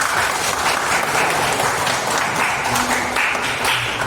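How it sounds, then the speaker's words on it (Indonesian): Classroom applause from students after a group presentation, a dense, steady patter of many hands clapping together for the full stretch, fairly loud and close, with a few faint voices underneath. "tepuk tangan"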